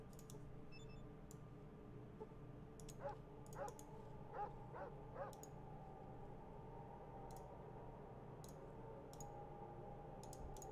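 Dogs in the video game Fallout 2 give a run of about five short, evenly spaced yips and barks in the middle, faint over a low steady hum, with occasional light clicks.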